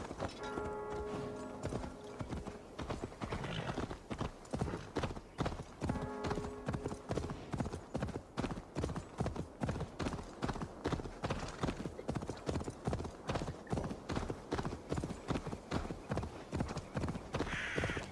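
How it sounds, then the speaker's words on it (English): Steady, rhythmic hoofbeats clip-clop quickly and continuously, a horse trotting at a constant pace in Assassin's Creed Valhalla, loud and close with no talking. "it's me calling a horse, you muppet"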